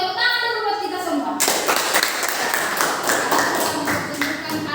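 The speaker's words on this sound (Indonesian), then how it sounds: "Tepuk tangan dulu buat kita semua." A classroom of students claps together for the group work, a dense burst of many hands that begins abruptly and carries on steadily, loud and close, with children's voices mixed in.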